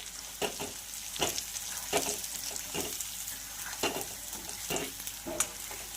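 Stuffed eggplant being stirred and sautéed with masala in a pan, giving a steady sizzle broken by repeated scraping spoon strokes at an irregular rhythm, close and moderately loud, with no voices.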